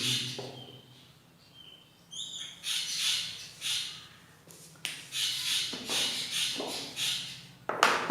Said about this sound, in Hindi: बर्ड्स की आवाज आपको सुनाई दे रहा होगा।